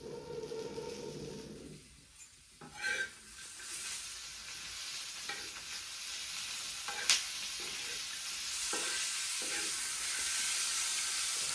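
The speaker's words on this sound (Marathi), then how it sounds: "मस्त परतून द्यायचा आणि रगडायचा" Tomatoes and green chili sautéing in a pan for Maharashtrian mirchi thecha give off a steady sizzle with occasional scraping stirs, close and moderately loud, with no talking.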